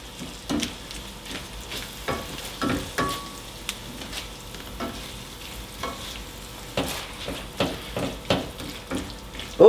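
Moo shu pork being stirred in a hot pan, a spoon scraping and clacking in repeated strokes over a steady frying sizzle, close and fairly loud with no talking.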